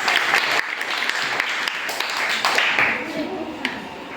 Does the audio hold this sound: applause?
yes